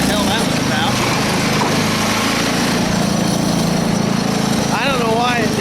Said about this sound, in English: I never seen a tractor just start up like that for no friggin' reason.